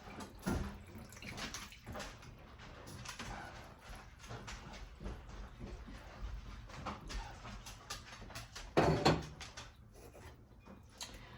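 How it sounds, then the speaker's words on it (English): Hot broth for beef stroganoff poured into canning jars, with splashing pours, glassy clinks and knocks of jars and ladle, a louder burst of pouring near the end. "we want to fill up the jars with the hot broth, 1 inch headspace"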